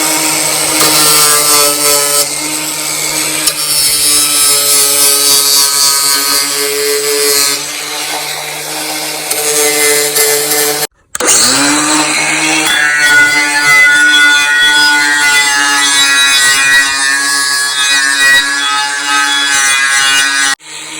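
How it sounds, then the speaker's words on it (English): A power grinder works over parts of a lawn mower being rebuilt, preparing them for welding. Its loud, sustained whine rises and falls as the tool is loaded, with a brief cutoff partway before it spins back up. "I'm gonna like grind some stuff down, get it ready to weld"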